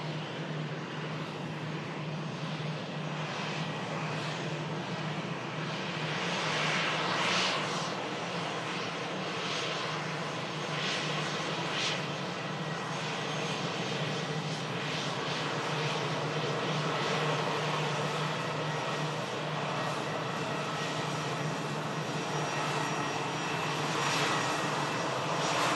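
EasyJet airliner bound for Geneva climbing away after takeoff from Manchester runway 23L, a steady loud jet roar holding throughout with no voices.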